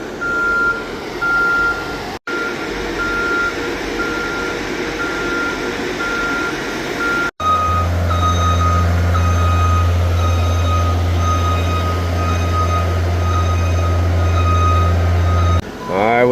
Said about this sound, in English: And we are moving the crane.